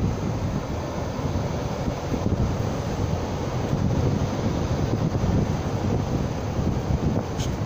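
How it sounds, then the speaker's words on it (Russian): Haier AV14IMSEVA air conditioner outdoor unit in defrost mode, its compressor winding down: a steady, loud broadband whoosh and low rumble with airy wind-like texture, continuous throughout with no voices. "идет понижение оборотов компрессора"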